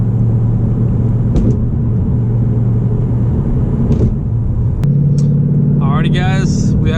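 A 2019 Ford Mustang GT engine drones steadily from inside the car while driving, a loud low rumble with road noise and a shift in pitch near the end, under a voice.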